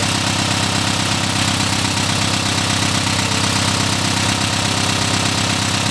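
A 1961 VW Beetle's freshly assembled air-cooled engine runs steadily during cam break-in, a loud, continuous idle with a knocking, vibrating mechanical rumble and no voices.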